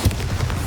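A Bombarda blasting spell goes off in Hogwarts Legacy with a short, low explosive boom up close, followed by a brief rumbling tail.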